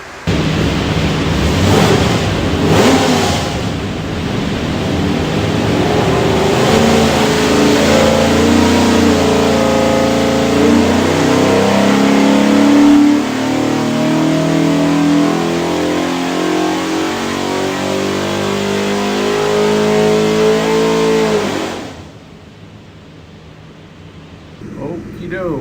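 A built 520 hp 363 cubic-inch small-block Ford V8 for a 1966 Mustang revs hard on a dyno, a loud sustained roar rising and falling in pitch for over twenty seconds before cutting off abruptly, with voices faintly under it.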